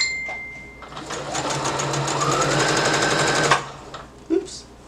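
A sewing machine stitches a romper waistband at the side seams, a rapid close mechanical chatter running for about three seconds before stopping, with light handling sounds afterward.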